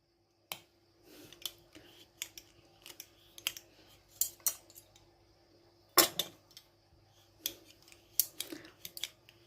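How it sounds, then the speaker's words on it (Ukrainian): Sharp little cracks and clicks, some single and some in quick clusters, close up and with pauses between them, as an activated charcoal tablet is pressed and crushed between two spoons. "таблетку кладемо між двома ложками і натискаємо легенько"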